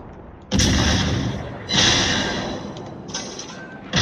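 Heavy gunfire in a last-one-standing online shooter match, a few loud booming shots with decaying tails spaced about a second apart, the last ones lighter and shorter.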